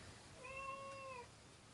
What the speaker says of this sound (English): My cat's not happy that I disturbed her seating arrangements.